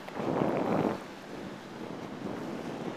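Wind rushes past the microphone while parasailing high above a beach, a breathy roar that swells for a moment, eases off, then rises again, steady and close.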